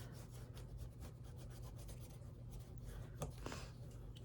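Paper being rubbed down by hand on a junk journal page, a soft continuous rasping scrape close by, steady throughout with a couple of brief crisper strokes near the end.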